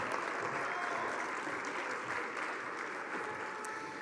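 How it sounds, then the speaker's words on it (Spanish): Steady, dense audience applause at a Jalisco government award ceremony, a continuous wash of many hands clapping at moderate distance that holds evenly throughout without a break. "le pido que lo recibamos con un fuerte aplauso"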